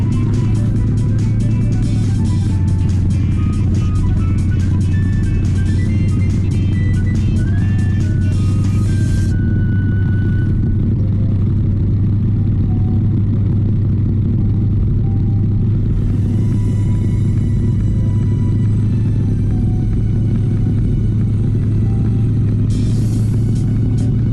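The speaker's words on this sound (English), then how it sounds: "Let's see how fast this V8 VW Caddy can run." A V8 engine in a VW Caddy drones loudly and continuously while accelerating along an asphalt road, a thick low rumble that holds steady for the whole stretch with shifting pitch as revs change.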